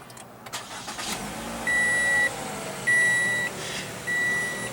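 Repeated chimes beep three times over the low rumble of a 2015 Toyota RAV4 2.5-liter 4-cylinder engine that has just started and is idling nearby.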